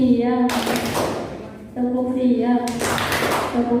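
A group of children clap in unison during a rhythmic clap game in a classroom, sharp bursts of claps in short patterned runs with chanting voices between them.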